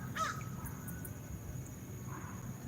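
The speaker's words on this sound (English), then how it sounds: "that crow's trying to tell me something" A single crow gives a brief caw at a lake campground, heard faintly and at a distance over quiet outdoor background hiss, and a softer call follows near the end.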